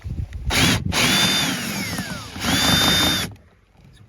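A cordless power driver backs screws out of a BMW X3 door panel, with two loud whirring bursts of rising and falling motor pitch and a short pause between them, close up.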